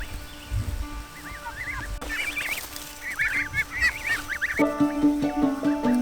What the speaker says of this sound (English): So far, the geese have done no damage. They're just eating grass.